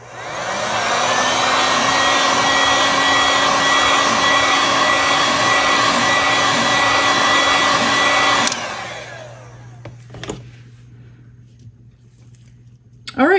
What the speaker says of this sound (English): just heat it up with your heat gun